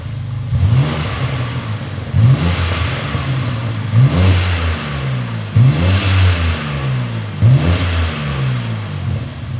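A BMW G87 M2 with a Remus valved axle-back exhaust revs repeatedly, five sharp blips rising and falling about every two seconds over a deep idle, loud and close.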